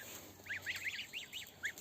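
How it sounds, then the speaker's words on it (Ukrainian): Five-week-old goslings give a quick run of about seven high, thin peeps, soft and fairly faint, with brief gaps between them. "Ось такі у мене гусенятка"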